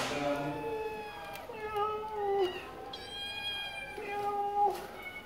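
Several cats meowing close by, one drawn-out cry after another with short gaps, some higher and some lower.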